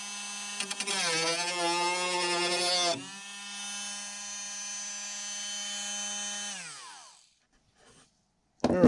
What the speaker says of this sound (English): I'm thinking I might break out the Dremel.